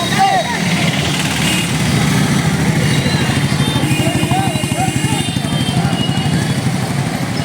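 Motorcycles rumble and throb up close in an employees' protest bike rally through the streets of Mummidivaram, starting from the district education office. The engines pulse continuously and loudly beneath a narrating voice.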